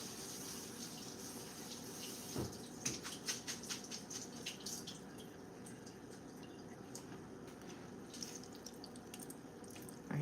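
Running tap water pours steadily over noodles being rinsed in a kitchen sink, a soft continuous splashing with brief clinks and patters as they are handled, heard up close and quietly.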